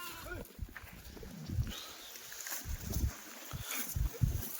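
Kathiawari sheep bleat repeatedly, short wavering calls from several animals at moderate distance, with faint rustling between.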